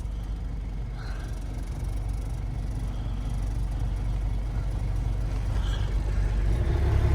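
A semi truck pulling a hopper bottom trailer idles and creeps along while maneuvering through a tight spot, its low engine rumble steady and close, swelling slightly toward the end.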